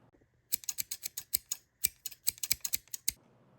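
A pair of scissors snipping in a quick run of sharp, crisp clicks, about a dozen close cuts with a brief pause midway, nearby and fairly quiet with no voices.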